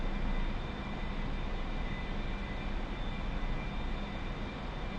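Steady, loud engine drone of an aircraft flying low toward a runway in the DCS flight simulator, a continuous broadband roar with a faint whine, unchanging throughout with no speech.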